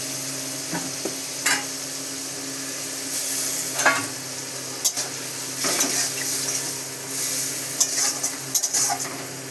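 A paste of ground turmeric, cumin and chili sautés in a pan for tengra fish curry, with a low sizzle beneath repeated scraping stir strokes and light utensil clinks. Nobody speaks.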